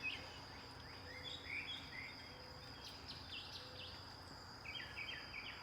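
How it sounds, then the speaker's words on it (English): Faint birdsong chirps in short bursts over a steady, high insect drone on a countryside homestead morning, with distant low background hum in a quiet outdoor setting. "hearing the birds in the morning"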